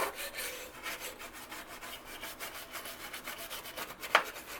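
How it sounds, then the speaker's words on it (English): A brush lightly scrubs a circuit board coated in cleaner, giving soft repeated rubbing strokes in a steady back-and-forth rhythm, close and fairly quiet, with one brief sharper scrape near the end. "we're going to take our brush and we're going to lightly scrub it up"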